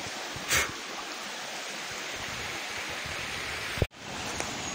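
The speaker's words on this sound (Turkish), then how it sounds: "Şöyle bir harika bir şelaleye denk geldik." Waterfall along a mountain trout stream, a steady broadband rush of falling water that fills the whole clip, with one brief louder surge early on and a sharp momentary dropout near the end.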